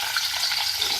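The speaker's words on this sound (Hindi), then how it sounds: "अब मैं अलग से कढ़ाई में जो है गोभी को फ्राई करूँगी" Lightly boiled cauliflower sizzles in a kadai, a steady close frying hiss filling the short moment without any talking.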